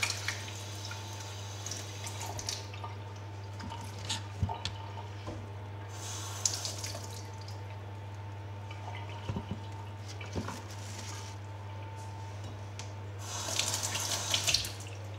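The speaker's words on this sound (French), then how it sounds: "je vais rincer comme ça tous les légumes" Tap water runs steadily into a sink as vegetables are rinsed, with splashes, drips and squishing handling noises close by and a constant low hum underneath.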